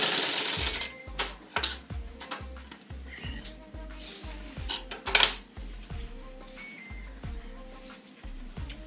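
A sewing machine stitches a blouse in short, evenly spaced bursts, each run of stitching starting and stopping with a clear mechanical rattle, close up and steady throughout.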